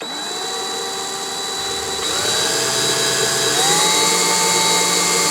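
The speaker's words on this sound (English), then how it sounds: "pilot hole." A power drill bores a pilot hole for a Harley saddlebag hinge cover, its close, loud whine climbing in pitch in a couple of steps as the bit bites in.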